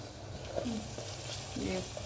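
Onions fry in a clay pot, a soft steady sizzle with a few stirring scrapes and clinks, heard close and fairly quiet.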